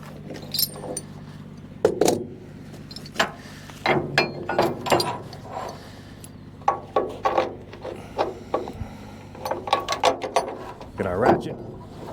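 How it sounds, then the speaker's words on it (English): Ratchet strap being cranked tight to secure a planter, an 11-foot-2-inch wide one, producing irregular bursts of clicking and rubbing with pauses between pulls, close by, amid some mechanical and wooden knocks. "Get our ratchet, secure it in here."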